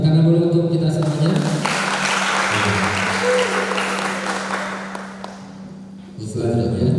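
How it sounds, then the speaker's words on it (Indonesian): Audience applause during a Qur'an comprehension competition at a regional MTQ event in Majalengka, a broad burst of clapping over a droning tone, entering after a voice and fading before speech resumes. "tepuk tangan dulu untuk kita semuanya"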